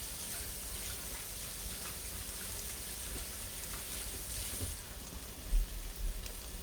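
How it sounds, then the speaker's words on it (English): Running water from a tap splashing over hands being washed, a steady gushing rush at moderate level with a couple of soft thumps near the end and no talking. "I'm gonna wash my hands off real quick."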